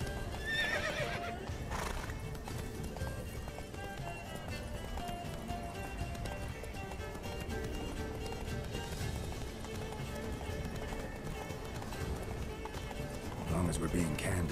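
Hoofbeats of a galloping horse in the video game The Witcher 3: Wild Hunt drum continuously and fairly quietly, with a whinny near the start, while voices talk over them.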